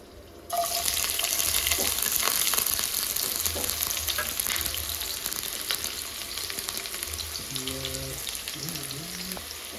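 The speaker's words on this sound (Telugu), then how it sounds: "ఆనియన్స్ వేసేయాలి ఇప్పుడు ఆయిల్ అయితే హీట్ అయిపోయింది" Onions hit heated oil in a home kitchen pan while chapati and bottle gourd curry are being made, bursting into a loud, steady sizzle that stays strong and continuous after the abrupt start, with a brief voice near the end.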